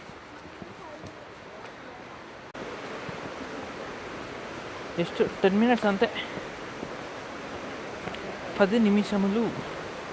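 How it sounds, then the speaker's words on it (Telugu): Rushing water from a waterfall on a chilly Mount Hotham trek in Australia gives a steady broadband roar throughout, with someone speaking over it in two short bursts. "ఇది వాటర్ ఫాల్స్ సౌండ్ పడుతుంది"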